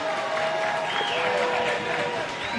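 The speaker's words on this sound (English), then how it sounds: "That's an applaud for Knox." A crowd at a women's football match between University of the Western Cape and Young Buffaloes applauds a substituted player, with steady clapping and crowd noise running under a commentator's voice for the whole stretch.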